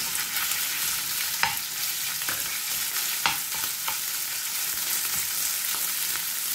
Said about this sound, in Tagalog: Habang ginigisa natin